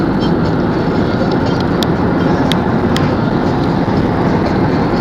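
A Union Pacific coal train rolls past in Pueblo, Colorado as a loud, continuous rumble heard close up, with faint metallic clicks rising now and then above the steady roar.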